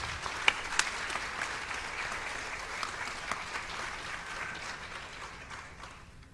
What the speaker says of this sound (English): So ladies and gentlemen, let's applaud